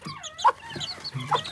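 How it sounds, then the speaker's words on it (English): Chickens cluck in short bursts with the low notes of a rooster among them, close by and at moderate volume, with brief calls scattered across a quiet farmyard. "That's definitely a rooster."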